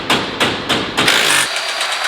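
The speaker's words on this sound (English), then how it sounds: "It sounds like Cooper and the corn head are having a little bit of a tussle" A combine harvester's corn head labouring while harvesting corn: loud, close mechanical engine roar with several heavy rhythmic thumps, ending in a steadier high whine.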